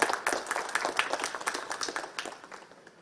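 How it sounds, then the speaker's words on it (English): Scattered applause from an audience at an industry event as a speaker is welcomed to give an address, a modest patter of individual claps that thins out toward the end. "With a big round of applause, let's welcome him."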